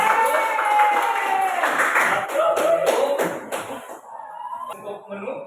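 Hands clapping in a classroom at the end of a lesson, several people clapping fairly close with scattered taps and thumps, voices mixed in, and the clapping thinning out toward the end.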